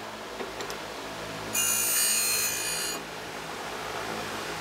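Surface grinder wheel grinding a chamfer edge on a tool, a bright hissing grind lasting about a second and a half that stands out loudly over a low steady machine hum.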